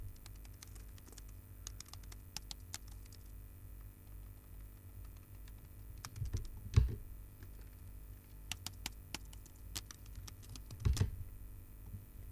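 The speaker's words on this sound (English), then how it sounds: "there's actually real keyboard sounds" Real computer keyboard typing recorded in a vocal booth for the background of an instrumental song: scattered soft key clicks and taps, quiet and close, with a few sharper clacks standing out, no voices.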